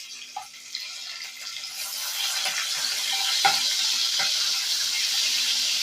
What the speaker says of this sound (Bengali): টমেটোটা তেলের মধ্যে ভালো করে ভেজে নেব।